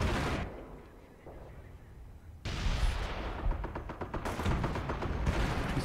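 Howitzer artillery fires in the World War II strategy game Company of Heroes: after a quieter stretch, a loud, heavy blast breaks in and is followed by a rough, continuing rumble of further gunfire and booms.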